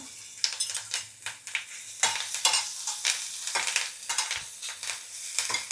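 Cumin, chili paste and curry leaves fry in hot oil for a fasting-day potato dish, with loud sizzling and crackling under repeated spoon stirring and scraping, close and continuous with sharp spikes.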